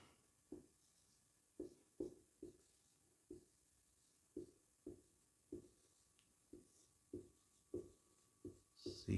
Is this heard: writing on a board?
yes